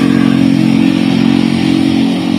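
A kolong-kolong, a motorcycle with a sidecar, runs steadily and loudly nearby, a continuous buzzing engine drone with no speech.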